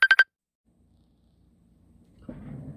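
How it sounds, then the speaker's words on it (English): Three quick electronic phone tones, short and sharp in a fast row, then silence before faint low background noise creeps in. "Somebody's calling me."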